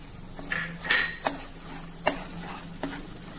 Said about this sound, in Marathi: हे जरा मिक्स करून घेऊ।